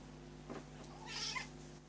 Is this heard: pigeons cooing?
no